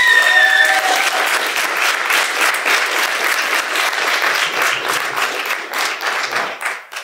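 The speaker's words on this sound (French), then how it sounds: "Gardez encore un petit peu vos applaudissements" Loud, continuous theatre audience clapping during a play's curtain call that carries on for several seconds before beginning to thin out near the end.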